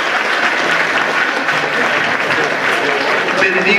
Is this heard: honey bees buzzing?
no